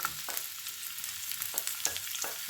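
Peppers dropped into a hot frying pan over medium heat sizzle with a steady, close hiss, broken by a few brief stirring scrapes.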